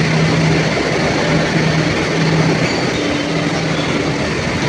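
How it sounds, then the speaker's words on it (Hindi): A Delhi Metro Blue Line train rumbles steadily at a station, with a continuous mechanical hum and faint tonal whine, no voices. "द्वारका सेक्टर 21 जाने के लिए ब्लू लाइन में ट्रेन आ गई है दूसरी तरफ।"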